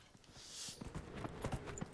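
Horse hooves clip-clopping in Dragon Age Inquisition, a quick run of soft, close steps rising in loudness over under two seconds.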